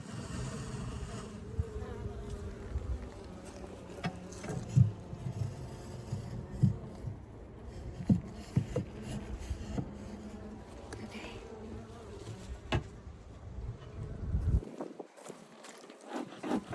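Honey bees drone continuously around an open 24-frame horizontal Layens hive during an inspection, a dense close buzz with occasional faint knocks of handling, then a sudden drop-off near the end.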